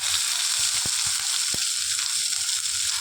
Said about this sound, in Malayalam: അപ്പം നമുക്ക് ആദ്യം പച്ചമുളകും സവാളയും കൂടി ഇതിലേക്കിടാം.